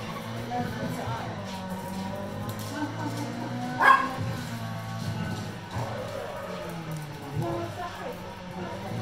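A dog barks in short bursts behind a Wii Ferrari Challenge racing game at Homestead, with steady engine drone and a louder spike partway through; the barking is partly masked by the game sound.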